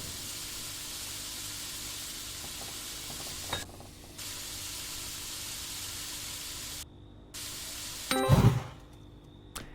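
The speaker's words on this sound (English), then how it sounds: "Let's have another attempt at frying an egg." Egg frying in a pan in the video game Creature Kitchen, a steady hiss running throughout with a brief loud sizzling flare near the end.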